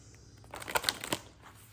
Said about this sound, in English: thank you for your patience as I shuffle the cards